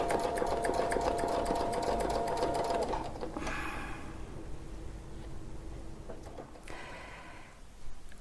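A sewing machine stitches a quilt wreath with a loud, fast steady whir for about three seconds, stops, then runs again in quieter short bursts near the end, with breathing and small handling noises in between.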